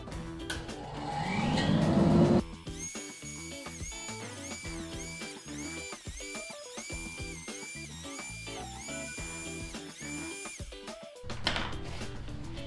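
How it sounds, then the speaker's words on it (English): An electric planer runs over a wooden cutting board with a loud, whining mechanical drone in repeated passes and short dips, bracketed by rougher bursts of noise at the start and end. "I think I've got one side flat enough where I could send her through the electric planer"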